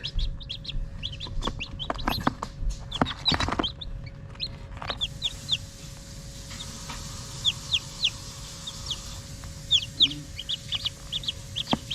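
Newly hatched baby chicks peep in quick, high, scattered chirps near a water dish, with a few soft knocks and rustles early on and no talk.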